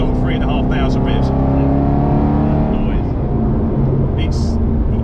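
The engine of an Aston Martin Vantage GT8 drones loud and steady from inside the car as it accelerates at around 3,500 revs on a mile run on the road, with occupants talking over it.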